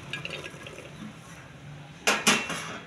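A little water goes into a pressure cooker holding carrots: soft kitchen clinks first, then two short, loud splashing pours close by.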